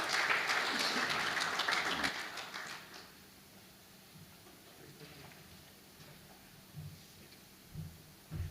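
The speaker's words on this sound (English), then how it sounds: "Can you give him a round of applause?" Audience applause at a men's parliament gathering rises loudly for about two seconds, then fades into a quiet room murmur with a few scattered claps and faint voices.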